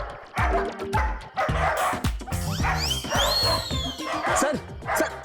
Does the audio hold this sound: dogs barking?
yes